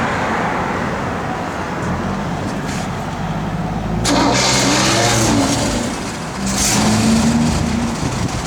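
A 1964 Chevrolet Impala SS V8 is cranked and fires up close by, the starter whirring before the engine catches with a loud surge, then settles into a rumbling idle before a second brief rev.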